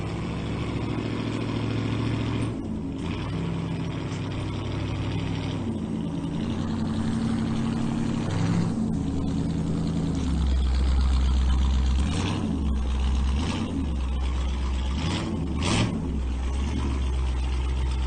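A started vehicle engine in a shop keeps running with the gas pedal held, a rough, close idle whose low rumble swells into several brief surges and dips over the final stretch.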